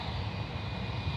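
A SkyWest Embraer 175 jet at San Francisco International Airport gives a steady, continuous engine roar, moderately loud and unchanging through the brief moment.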